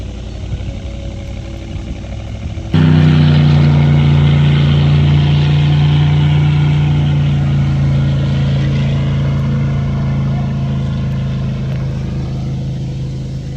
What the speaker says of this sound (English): It only took her about 30 pulls on the dinghy motor, but she eventually started it.